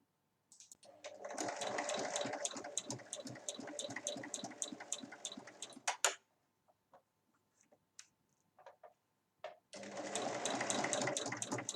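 Sewing machine stitching the sides of a rectangular fabric basket with two handles, running in a steady rapid whir for about five seconds, then a short pause with faint clicks before it starts stitching again.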